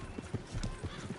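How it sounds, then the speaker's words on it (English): Horses galloping in Red Dead Redemption 2, a steady rhythmic clip-clop of hooves at a quick pace, moderately close, with a faint whinny-like tone and low background noise. "Horses won't go this fast for long."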